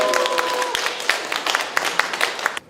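Audience applause at a book concert for the author Rhy Jung, a burst of many hands clapping in a room that continues steadily for a couple of seconds and then stops abruptly.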